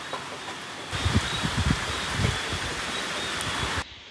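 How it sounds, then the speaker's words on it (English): Strong wind blowing outside at night during a hurricane, a broad steady roar with low gusty buffeting that swells for a few seconds before cutting off. "It's still so windy."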